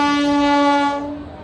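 A train horn blares loudly at a railway crossing on the Pandharpur wari pilgrimage route, a steady sustained tone holding for about a second before fading as the train approaches.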